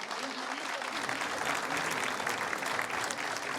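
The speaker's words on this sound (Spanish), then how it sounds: "yo quiero pedir un aplauso para ellos" A seated audience applauds at a literary talk, steady clapping from many hands at moderate distance, continuous and fairly soft for a few seconds.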